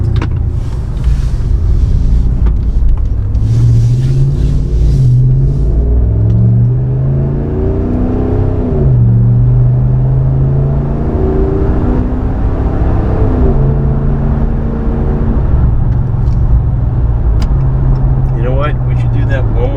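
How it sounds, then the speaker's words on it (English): A Ram 1500 pickup fitted with a TOTALFLOW 415633 muffler accelerates hard, its exhaust rising in a loud, rumbling drone that climbs and settles through several revs, close and continuous with a voice talking over it. "I'm going to complete the U-turn and we're going to accelerate the truck"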